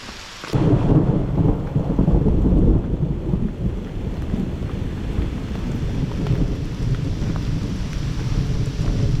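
A thunderstorm breaks over the Appalachian Trail: a loud rumble of thunder sets in abruptly and rolls on beneath heavy, steady rain and gusty wind buffeting the microphone.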